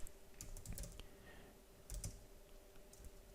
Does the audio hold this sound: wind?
no